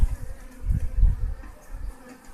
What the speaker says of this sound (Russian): вот мой улей